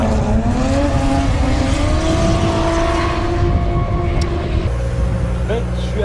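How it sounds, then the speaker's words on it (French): Drift cars at a DriftCup event, a Nissan S13 chased by a BMW, roar loudly and steadily with rising engine tones and tire noise, while a commentator talks over the din. "le pilote français ici sur cette Nissan S13 qui est poursuivi par la BMW 36."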